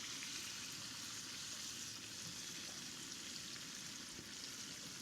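Thick-cut greasy meat frying in its own rendered fat at a riverside campsite, a steady dense sizzle and crackle holding at an even level throughout with no talk over it.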